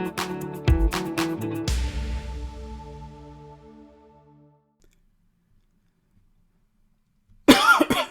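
After a fading musical tone and several seconds of silence, one sharp, loud cough bursts out close by near the end.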